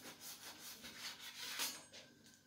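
Knife drawn repeatedly along the edges of a baked cake sheet to trim them straight, giving a steady rhythmic scraping, rubbing sound, close and fairly quiet, with no talking.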